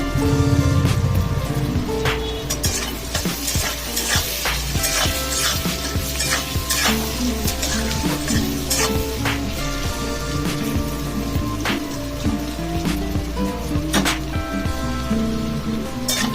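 Potatoes frying in oil with salt and turmeric, a dense continuous sizzle with rapid crackles and stirring clatter, loud and close throughout.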